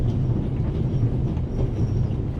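Train riding on rails in The Raven game, a steady low rumbling hum from the carriage interior, moderately loud and continuous with no speech.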